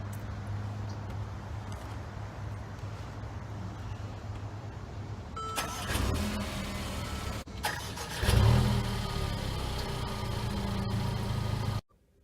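A Mercedes-Benz CLA250 cranks and fires up about halfway through, then settles into a steady close-up idle with a brief rise in revs, the engine running on until it cuts off sharply at the end.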